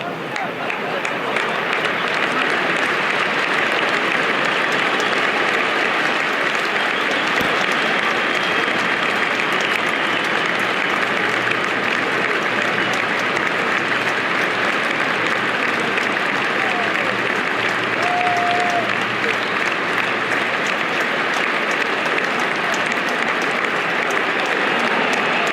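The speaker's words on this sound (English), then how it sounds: "Please join us as we now celebrate George's life with a moment of applause, which will start and end on the referee's whistle." A Wembley stadium crowd applauds in memory of George Eastham before England versus Albania, a vast continuous roar of clapping that holds evenly throughout, with a faint whistle-like tone partway through.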